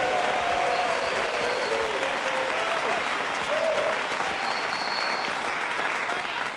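A crowd at a dance contest applauds loudly and continuously, with scattered cheers and voices mixed into the clapping.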